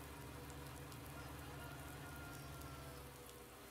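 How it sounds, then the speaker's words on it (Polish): Steady, dense rain patter in Farming Simulator Seasons fills the whole stretch, a continuous hiss of drops falling on surfaces, fairly quiet and unbroken. "Ciągle pada."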